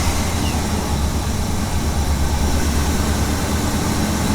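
A Ford E-350 Econoline van with a lean-running fault and suspect mass airflow sensor idles in a steady, loud low rumble, close by with an even drone and no speech.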